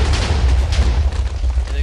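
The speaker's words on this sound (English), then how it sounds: "First of all, that blows up a big area," A redstone-triggered TNT trap explodes in Minecraft, a dense, booming roar with heavy low rumble that fills the whole moment, loud and continuous without speech.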